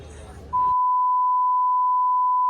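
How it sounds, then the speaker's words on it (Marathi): A single steady electronic beep, loud and sustained for about two seconds, cutting in after a brief burst of background noise. "बीप मारायला लागेल"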